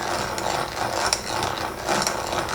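A hand-cranked boring tool plows into walnut, producing a continuous, dense, close grinding and chattering rasp with slight rhythmic surges as the crank turns.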